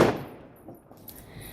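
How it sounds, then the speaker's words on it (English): A single sharp firework bang on Bonfire Night opens the moment, then fades into a dull rumbling tail with faint crackles after it. "More fireworks!"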